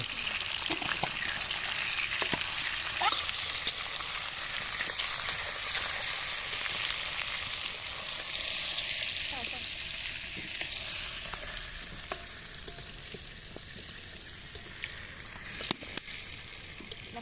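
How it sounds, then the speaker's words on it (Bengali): Potatoes frying with turmeric, a soft continuous sizzle heard from a short distance with occasional faint clinks, fading slightly toward the end. "এই যে রাধুনি হেল্পার এখন আলু ভাজতে ব্যস্ত"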